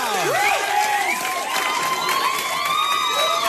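A late-night monologue studio audience cheers, whoops and applauds loudly, a dense, sustained roar of the crowd with high shouts rising over the clapping. No one speaks over it.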